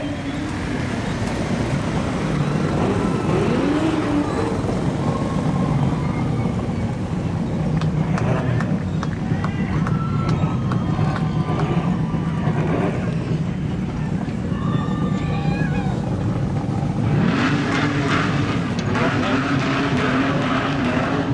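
Street stock race cars roar around the dirt oval at Gympie Speedway during a Queensland title main event, a loud continuous engine drone with rising and falling passes and occasional tire squeal under crowd and announcer noise.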